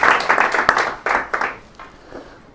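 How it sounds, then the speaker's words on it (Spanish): A small audience applauding a speaker at a Masonic lecture, a short burst of scattered clapping from a modest group, close and uneven, fading out within a couple of seconds. "Un aplauso para él."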